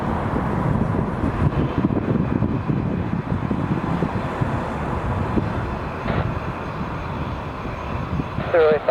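An Airbus A340 takes off at Lisbon airport, its engines a broad, steady roar that stays loud throughout with the rumbling texture of a nearby jet, and a brief tonal chirp near the end.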